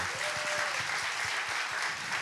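A crowd claps steadily for a couple of seconds, a dense, continuous patter of many hands at moderate volume.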